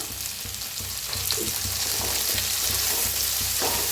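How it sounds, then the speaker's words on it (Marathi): Peanuts sizzle in a hot pan for masale bhat alongside frying carrots, a dense continuous crackling hiss that swells louder partway through, with faint stirring scrapes, close and alone. "थोडंसं शेंगदाणा टाकते"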